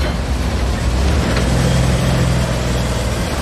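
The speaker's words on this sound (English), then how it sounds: "You said the truck is running? Is it running well? You can listen to it in the background." A truck engine idles steadily in a scrapyard workshop, a loud, constant low rumble that fills the clip without a break.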